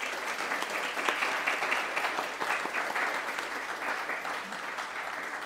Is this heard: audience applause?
yes